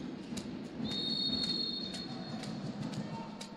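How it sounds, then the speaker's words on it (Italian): At an Italian Serie A Gold handball match between Brixen and Bolzano, a referee's whistle sounds with a short shrill blast amid arena crowd noise and ball bounces, heard somewhat distant. "C'è un fischio degli arbitri, non ho capito per la verità per quale motivo."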